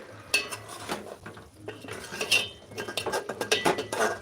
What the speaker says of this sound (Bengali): তো এটা আমি এখন আস্তে আস্তে নাড়বো